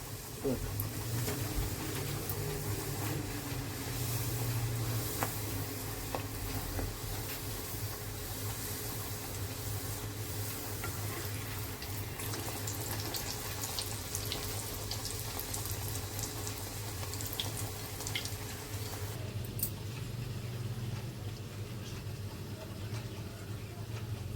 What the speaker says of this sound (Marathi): तेल तापलेले आता त्याच्यात मी एक एक पुरी तळून घेते